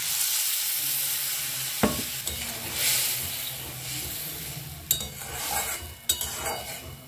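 Chili and turmeric hit a pan of softening onions with salt, sizzling and frying while a spoon stirs, scraping and clinking against the pan now and then; a soft, continuous hiss with a few sharp knocks, no talk.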